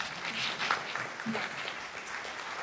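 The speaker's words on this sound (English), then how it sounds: "I just want to give yourselves a round of applause." Town hall audience applauding, a soft, fairly distant patter of clapping that holds steady through the moment without talk.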